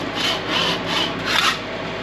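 Old bushings are ground down in an outback workshop, giving a continuous loud rasping scrape that swells and eases in uneven strokes at close range.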